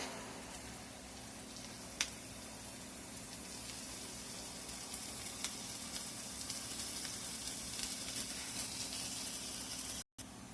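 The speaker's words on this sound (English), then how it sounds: "our skillet's starting to sizzle" Food sizzles steadily in a hot skillet, a soft continuous crackle with a few sharper pops and no talking.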